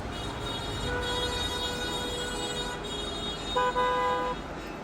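Car horns honking in a stalled traffic jam on the Dhaka–Mymensingh highway, several toots over a steady rumble of idling vehicles, with one louder, longer blast near the end.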